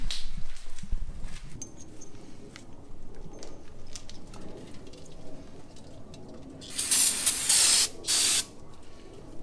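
Two short, sharp hissing sprays of cleaner hit a new rear brake rotor on a GMC Yukon, close by, after several seconds of quiet shop handling noise.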